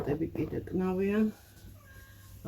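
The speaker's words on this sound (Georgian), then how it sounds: "კატები კიდე კნავიან." Cats meowing close by, a drawn-out tonal meow followed by quieter softer cries, with a faint domestic background.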